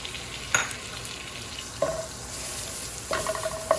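Ginger garlic paste with hing sizzles steadily in hot oil, close and moderately loud, with a few sharp spatula scrapes and knocks against the pan and no speech.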